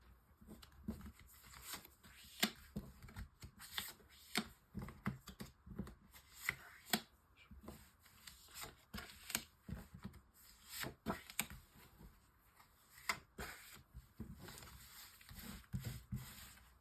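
Tarot cards shuffled and laid out on a table for a nine-card spread, with soft riffling, rubbing and papery slaps repeating steadily at close range, quiet and without talk.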